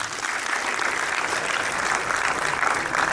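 A crowd at a community student-felicitation ceremony in Rajkot claps together, a dense, even burst of many hands that stays loud and steady from start to finish, with no voices over it.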